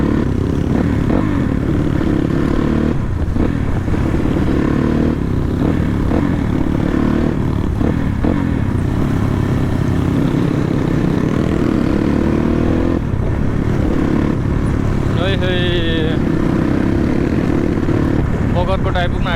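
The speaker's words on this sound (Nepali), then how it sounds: "अब 3टा बाइक निकाल्दाखेरि यति साह्रो आवाज आउँछ" Three dirt bike motorcycles ride together on a trail ride, their engines a continuous loud droning rumble under someone talking for most of the stretch.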